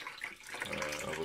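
Tap water runs steadily into a basin over an 8-inch Soligor MT-800 Astro 200mm Newtonian telescope mirror, a continuous close splashing gush that grows fuller as the basin fills.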